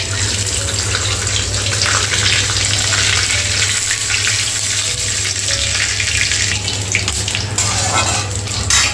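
Whole garam masala spices sizzle in hot oil in a pan for a jackfruit kalia, giving a steady, dense, close frying hiss that runs unbroken throughout with a low hum underneath.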